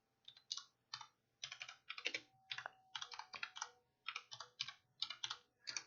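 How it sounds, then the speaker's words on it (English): Quiet, uneven clatter of keys on a computer keyboard, short clusters of taps with small pauses, close up and steady throughout. "I'm typing with one hand."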